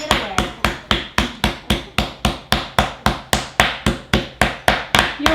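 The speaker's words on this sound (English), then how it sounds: "You will continue hitting until it is a 1/4 inch thick" Steak is pounded under plastic wrap with a meat mallet for chicken-fried steak, giving a steady, evenly spaced series of about eighteen loud, close thuds, with no talking.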